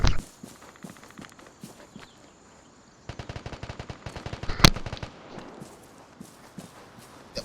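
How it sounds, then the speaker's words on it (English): Gunfire in the online shooter Vigor, in the Wild Outlands, comes as scattered single shots and then rapid automatic bursts, loud and fairly near, with softer crunching footsteps between them. "Now we hear gunshots."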